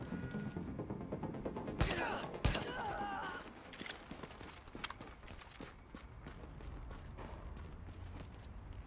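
Gunfire in The Division: a couple of sharp, loud shots early on, then scattered fainter pops and clatter over a low game background, with a voice heard faintly.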